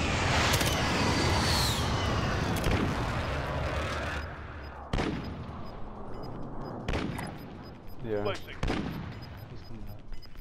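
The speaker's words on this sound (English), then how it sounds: "Friendly precision airstrike inbound." Precision airstrike explosions in a squad battle royale video game arrive as a dense, sustained barrage of heavy booms and gunfire-like blasts, loud at first and then thinning into scattered bursts.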